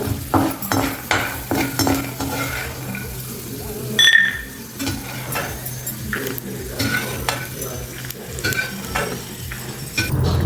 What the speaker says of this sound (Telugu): ఒక స్పూన్ ఆయిల్ వేసుకుని మనం పల్లీలు వేయించుకున్నాం కొంచెం వేయించండి చాలు